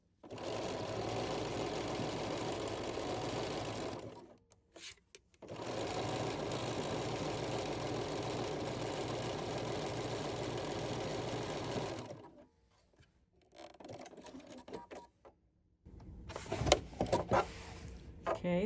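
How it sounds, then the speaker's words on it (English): Sewing machine stitching in two long steady runs, a fast even mechanical whir with rapid needle rhythm, pausing briefly between them, then quieter handling noises and short bursts near the end. "Then we're just going to simply sew with the needle landing on the other side, turn around,"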